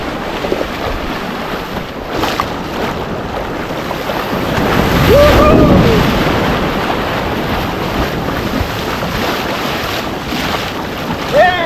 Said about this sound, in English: Pretty small waves.